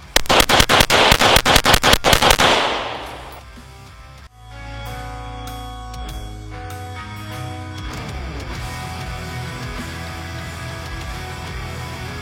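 A Glock 45 pistol fitted with a ramjet barrel and compensator fires a rapid string of about ten loud, sharp shots at the start. Heavy ringing and scraping movement noise follow at a range, with no voices.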